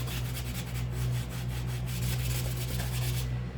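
A purse being scrubbed clean by hand, giving a steady, close rubbing and brushing sound that continues unbroken with no talking.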